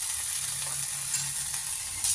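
Steady, bright sizzling of half a spoon of ginger garlic paste frying in hot oil in a home kitchen pan, a continuous hiss with faint stirring scrapes, close and even throughout.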